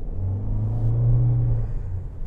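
Toyota hybrid car accelerating: a steady low engine drone and rumble swells slightly in the middle and then eases, continuous throughout and heard from inside the car.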